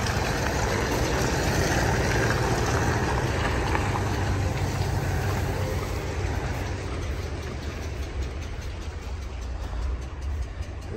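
A truck engine idles nearby at a salvage yard, a steady low rumble that runs continuously and eases slightly toward the end, with no voices over it.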